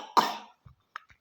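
A child gives one sharp, harsh cough up close, followed by a few faint throat sounds and small breaths, with no speech.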